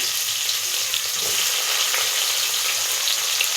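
Sliced onions and peppercorns frying in hot oil in a pan, a steady, loud, close hiss of sizzling that holds evenly throughout with no talking.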